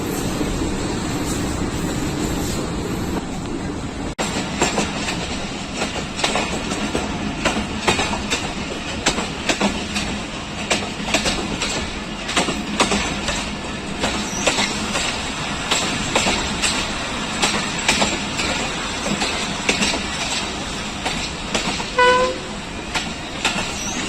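Hazara Express passenger train of Pakistan Railways running between Rawalpindi and Gujar Khan, with a steady rumble and rhythmic clickety-clack of wheels over rail joints and a brief horn toot near the end.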